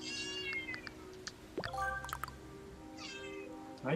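Cat meowing inside a Mario + Rabbids Kingdom Battle Donkey Kong Adventure level, several drawn-out game meows at close range. A brief sliding tone breaks in midway, and low background music runs steadily under the calls.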